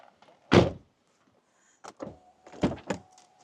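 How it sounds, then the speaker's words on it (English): A BMW 2 or 1 Series car door thumps shut while the electric window whirs upward, followed by further clunks and knocks, close and distinct in a quiet setting. "make sure the window goes up even when the door is closing"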